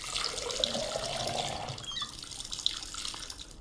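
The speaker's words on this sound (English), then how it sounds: "You can fill it up with water." Water running into a container in a drug-dealer video game, a steady faint trickle with a few small drips and splashes, heard alone and quiet.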